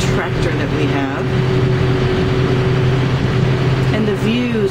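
A tractor engine clearing overgrown pasture at an elephant refuge runs with a steady close drone and low humming tones throughout, and a voice is heard briefly.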